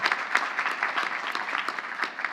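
Commencement audience at Queens College applauding, dense crowd clapping with uneven bursts, steady and fairly loud across the short stretch.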